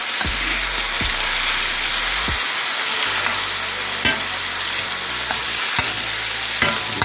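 Shrimp sausage with green seasoning sizzles and fries in a pan, steady close crackling broken by repeated scraping stirs, no talking.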